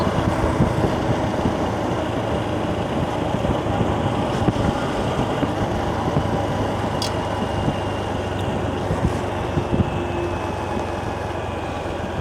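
A Honda Trail 125 motorcycle cruising in fourth gear at low RPM around 30 mph, a steady low engine drone mixed with wind rush, continuous and unchanging.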